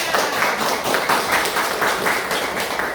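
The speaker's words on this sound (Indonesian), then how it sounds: "tepuk tangan" A classroom of students claps steadily for a few seconds, a dense, even patter of hands with no voices over it.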